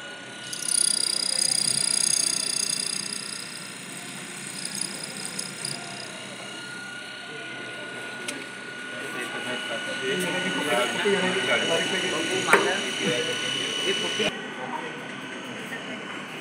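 A DC series motor hums and whines steadily while its supply voltage is raised, the tone holding a constant high pitch as talking runs over it throughout.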